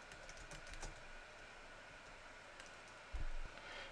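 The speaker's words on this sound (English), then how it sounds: "You can type in a username" Quiet clicking of keys on a computer keyboard while entering a username for a new Google account, a faint steady patter with one brief louder burst near the end.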